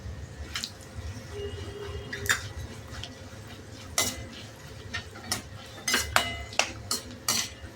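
Cashew pieces tipped into a frying pan of hot oil for poha chivda and stirred, giving soft sizzling under a run of sharp metal spoon scrapes and clinks on the pan, closer together toward the end.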